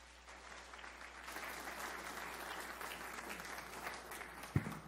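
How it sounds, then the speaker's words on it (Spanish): Applause from a seminar audience fills the room, a steady, moderately distant wash of many hands clapping, with one sharp knock near the end. "Un aplauso para todos ellos."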